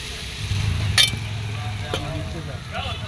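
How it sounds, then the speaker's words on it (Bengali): Spice paste frying in a pan for a poppy seed dish, soft steady sizzle with a few sharp clinks of a utensil against the pan and stirring scrapes, moderately close. "এই দেখো মশলা কষানো হচ্ছে"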